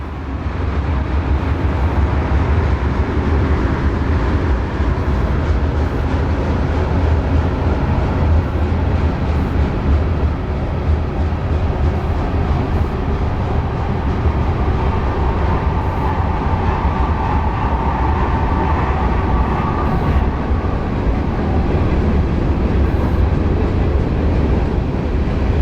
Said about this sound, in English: Eastbound trains are working hard past Cresson as they climb to the summit of the grade at Gallitzin